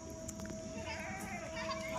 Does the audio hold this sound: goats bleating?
yes